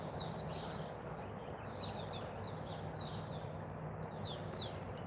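Steller's jay calling outdoors, a series of short harsh calls repeating at irregular intervals above a steady background hiss, faint and somewhat distant.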